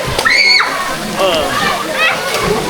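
Someone jumps into a clear outdoor swimming spot, and water splashes and sloshes close by while excited voices and children shout over it.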